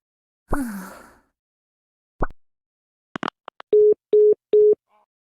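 Phone dial tone in the game Trickcal Revive, three steady repeating beeps near the end, following a few short blips and isolated sound effects.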